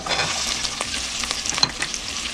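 Ginger hits a hot frying pan for sweet and sour tilapia, giving a close, bright sizzle with quick stirring scrapes and a few sharp pops.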